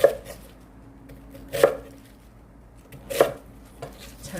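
Cabbage being chopped on a cutting board for kimchi, heard as three sharp, evenly spaced knife strokes with a faint fourth, close and clear against quiet background.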